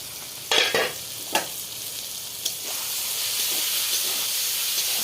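A pan of food sizzles steadily, broken early by a few sharp stirring clatters, then settling into an even frying hiss.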